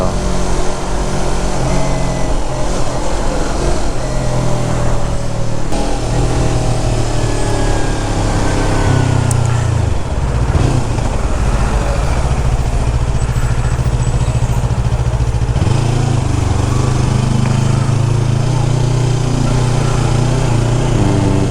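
Yamaha R25 sport bike engine hums continuously while ridden along a coastal road in traffic, steady and close with wind noise and slight rises and dips in pitch, no talk.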